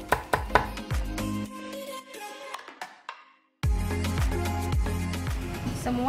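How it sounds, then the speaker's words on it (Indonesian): Ingredients for pepes tlengis are pounded and then chopped on a board: sharp, close knife thuds in quick rhythmic bursts, a short pause with quieter taps, then a dense run of rapid chopping. "jadi sebelum dicincang kita keprak-keprak dulu supaya lebih gampang untuk dicincang"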